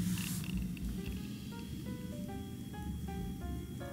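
A pregnant year-old British Shorthair cat purrs in a steady, continuous low rumble, close and soft, with no talking.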